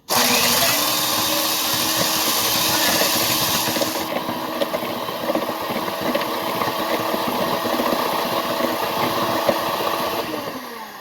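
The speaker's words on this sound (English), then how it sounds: "A hand mixer and" Electric hand mixer whirring through chocolate chip cookie dough, a steady high-pitched motor drone with a rougher churning texture partway through, close and loud with no talk.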